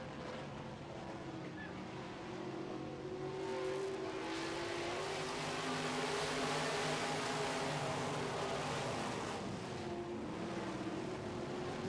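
Midwest modified race cars circling an oval track, a distant engine drone rising as the pack passes and easing off again, with crowd and track ambience around it.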